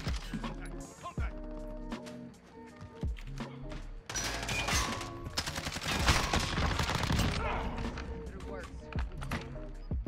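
Rapid bursts of automatic gunfire from a Warzone match crackle densely and loudly, intensifying into a sustained barrage midway, with a player talking over the shooting.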